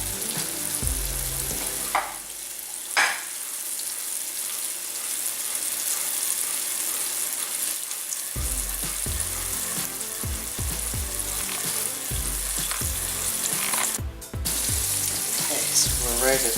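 Salisbury steak patties sizzle in grease in a pan, a steady close frying hiss with brief bumps and scrapes of handling.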